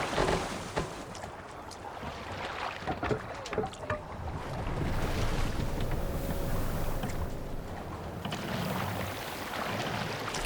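A longship moves across the open sea in Assassin's Creed Valhalla. Oars splash and knock in a steady, irregular rhythm, with water wash and gusts of wind underneath for the whole stretch.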